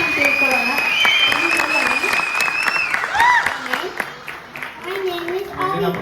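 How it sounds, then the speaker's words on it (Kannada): Applause from an audience at a children's Ugadi festival performance, steady and dense for the full stretch, with children's voices and chatter rising over it. "ಇನ್ನು ಜೋರಾಗಿ ಚಪ್ಪಾಳೆ ಬರಲಿ"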